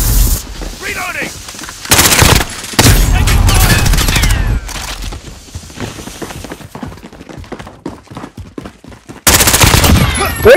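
Bursts of automatic gunfire in Call of Duty Modern Warfare on the Shipment map, loud rapid volleys that come in blocks with quieter gaps and scattered shots, while radio callouts and voices play in between.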